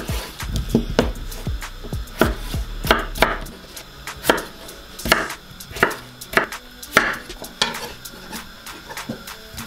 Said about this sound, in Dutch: gaan we die even in iets kleinere blokjes snijden